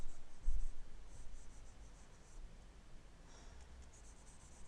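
Pencil-shaded drawing being erased, working on the rounded abdomen of a figure; soft, close rubbing strokes in a quiet room, with a slightly stronger burst near the start and gentle scrubbing after.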